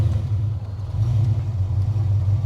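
A 1995 Impala SS with a 383 engine runs just after firing up, a steady, deep idle rumble close by with no talk.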